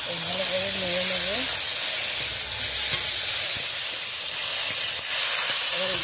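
Shrimp and taro stems stirred with chili powder in a hot pan, a steady loud sizzle and hiss with occasional scrape of stirring, after a brief voice at the start.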